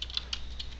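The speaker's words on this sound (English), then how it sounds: "Type" Quick, light keystrokes on a computer keyboard, a short burst of four or five crisp clicks close to the mic with a faint steady hum underneath and no talking.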